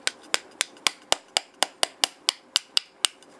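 Steady metallic taps of a small hammer or punch driving a pin out of an M1911A1 pistol, about thirteen sharp close strikes in an even rhythm with short ringing decays, no talk.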